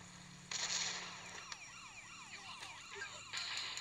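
Police siren in the video game GTA Chinatown Wars wails in repeated rising and falling sweeps, fairly quiet and mixed with other game noises, with no one speaking.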